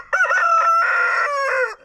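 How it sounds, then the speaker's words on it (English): A rooster on a farm lets out one loud, close cock-a-doodle-doo. The crow lasts about a second and a half, with a few brief breaks, then stops abruptly. "That's a rooster."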